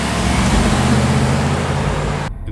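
A car that cannot be plugged in drives with a loud, steady engine and road rumble and a continuous low hum, which cuts off abruptly just before the end.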